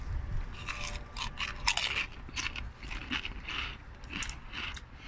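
Covered Bridge Weekender potato chips, barbecue or jalapeño flavour, crunched close up in repeated bites and chews that crackle steadily through the whole stretch with no talk.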